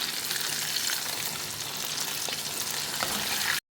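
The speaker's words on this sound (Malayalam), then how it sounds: "പിന്നെ തിളച്ചെണ്ണയിലേക്ക് ഓരോന്നോരോന്നായി ഇട്ട് വറുത്ത് കോരി എടുക്കുക" KFC-style chicken popcorn pieces deep-frying in boiling oil, a dense, even bubbling sizzle held close and steady for several seconds before cutting off abruptly.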